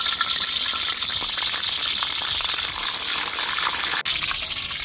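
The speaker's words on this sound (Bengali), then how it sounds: "গরম হয়ে গেছে বন্ধুরা, জলও পড়ছে, তেলের মধ্যে জল পড়ছে।" Water pours into a pan of hot oil at an outdoor picnic, a steady loud gushing hiss that runs unbroken with one brief dropout near the end.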